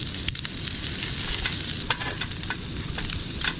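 Crayfish sizzle and spit in a hot pan with a steady, fairly quiet crackle and occasional sharper pops, heard without any talk.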